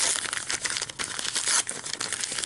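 Tissue paper being unwrapped from a mail-order comics package, giving steady close crinkling and rustling with small tearing bursts throughout, no talking.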